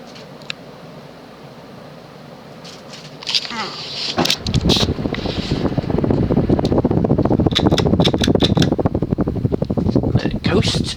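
Key Largo Saff 52-inch ceiling fan with a stamped motor starting up: quiet at first, then a clunk and a rising steady whoosh of air from the spinning blades with faint clicks, running close under a speaking voice.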